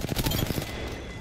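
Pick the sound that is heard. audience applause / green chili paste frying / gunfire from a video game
gunfire from a video game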